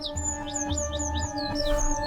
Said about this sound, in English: Some loud birds.